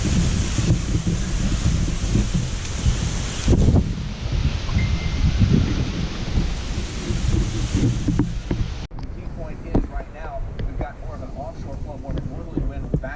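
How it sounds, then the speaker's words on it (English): Hurricane Dorian's wind and rain lash Hampstead, North Carolina at night, a loud steady roar of gusts and downpour that fills the whole stretch, briefly easing near the end. "we're getting a lot of wind, a lot of rain, but all you can do is hear it."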